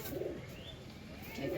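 Pigeons coo softly in two low, rolling bursts at the start and end, separated by a quieter stretch, with faint background noise.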